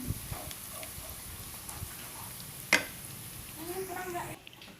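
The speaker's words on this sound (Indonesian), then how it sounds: "Nah ini kita goreng cabenya" Chili peppers frying in a pan in a small, cluttered home kitchen give a steady, close sizzle, with a sharp metallic clink near the middle and a brief bubbling swell toward the end.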